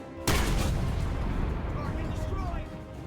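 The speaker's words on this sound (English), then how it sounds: "the sound when an enemy is hit, and even when you fire the cannon" Tank cannon firing in War Thunder: a single sudden heavy boom followed by a long rumbling roar that slowly fades, loud and close.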